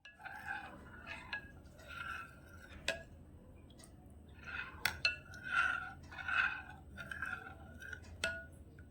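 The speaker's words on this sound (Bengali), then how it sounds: "দুধটা এবারে এই সাবুর মধ্যে মিশিয়ে নেব।" Milk being stirred into soaked sago pearls in a glass for a sabudana drink, with soft repeated swishes and a few sharp spoon clinks against the glass, close and quiet.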